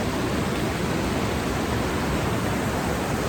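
Fast river water courses past a riverside hotel in Harsil, giving a continuous, loud, close wash of sound with no breaks and no talking.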